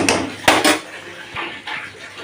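Cut raw banana pieces tipped into a pan of chole masala: sharp clatters of metal utensil against the pan in quick succession, then softer scraping and stirring, close by.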